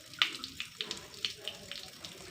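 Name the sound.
water squeezed out of a wet cotton cloth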